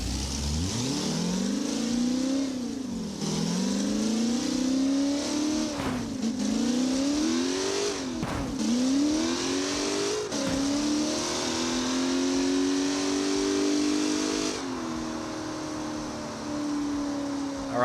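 A C5 Corvette Z06 in BeamNG Drive roars through repeated full-throttle pulls on a dyno, engine pitch climbing through each gear before brief drops at the shifts, loud and close throughout with no talk.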